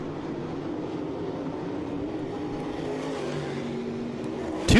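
Late model race cars roar through the closing laps of a feature at Southern Ontario Motor Speedway, a continuous loud engine drone that swells sharply in the final moment.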